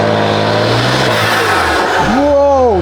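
A BMW M4 Competition fitted with front mount intakes revs loudly from close by, its engine note rising sharply in pitch, falling and climbing again near the end, with brief talk mixed in.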